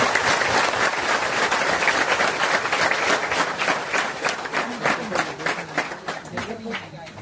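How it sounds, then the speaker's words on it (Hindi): A crowd at a Navratri lamp-ritual gathering claps loudly and steadily to welcome an honored guest, dense applause that thins toward the end. "एक बार आप सभी से निवेदन है, इनकी स्वागत हेतु जोरदार ताली बजाकर इनकी स्वागत करें।"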